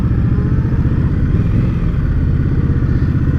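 An Indian Scout Bobber motorcycle engine runs with a steady, close, throbbing rumble throughout, holding an even pace with no revving.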